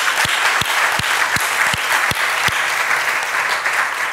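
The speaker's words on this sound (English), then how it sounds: "Another round of applause." An audience at a diversity dialogue session applauds a guest speaker, a loud full round of clapping with several sharp, close individual claps standing out from the steady wash.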